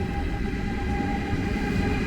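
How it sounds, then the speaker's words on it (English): Railjet high-speed train at München Hauptbahnhof: a loud, continuous rumble of rolling rail cars with a faint steady whine above it, no voices. "now this is the railjet to Venezia"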